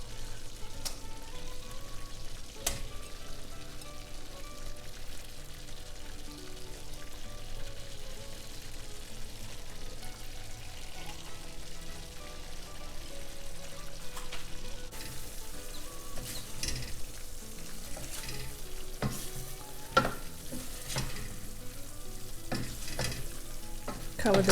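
Fish pieces marinated with salt and yellow powder sizzle as they fry in gravy in a pan, a steady low crackle with occasional stirring scrapes and clinks.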